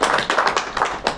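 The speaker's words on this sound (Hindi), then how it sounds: "ताली बजाऊं क्या?" Brief rhythmic clapping from a seated audience at a business talk, close and fairly loud, a handful of claps in an uneven cluster lasting about a second.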